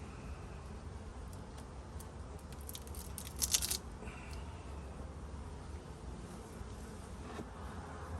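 Bees drone steadily around an open, weak beehive, a continuous close buzz with a louder pass around the middle, and no talking.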